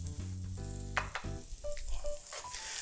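Butternut squash added to a hot pan over rendered fat, with thumps as pieces drop in and then a steady sizzle and crackle, fairly quiet and close.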